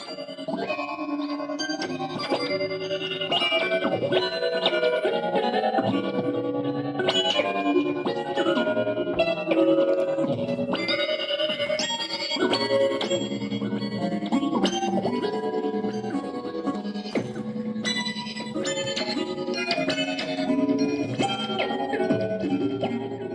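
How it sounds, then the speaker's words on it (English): Electrical signals from a living plant, read through probes clipped to its leaves and turned into sound, play as a shifting run of bell-like synthetic tones and chimes that overlap and wander in pitch, steady and moderately loud throughout with no voices. "you hook a probe to one leaf and then to another one, and you can hear what's going on in that plant"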